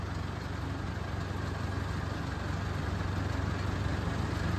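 Tractor engine chugging at low revs in its slowest gear during hay baling, a steady, close, continuous low rumble with no breaks and no talk.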